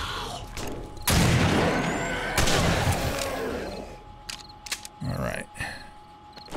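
Shotgun blasts in the zombie survival game 7 Days to Die during a horde night, a few loud close booms with trailing rumble, followed by scattered quieter clatter.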